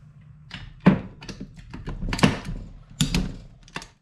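A torque wrench set to 23 foot-pounds tightens bolts on a Toyota/Lexus V8 supercharger, several sharp close clicks and thunks spaced irregularly across a few seconds with no talking.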